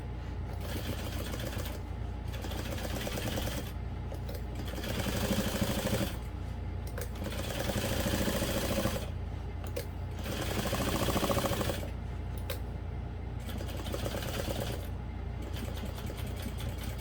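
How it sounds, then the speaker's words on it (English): A sewing machine stitches together the layers of a drop-in bag lining with a half-inch seam, running in several steady bursts with short pauses between them, close and fairly loud. "I'm just going to sew those layers together, again using a 1/2 inch seam allowance"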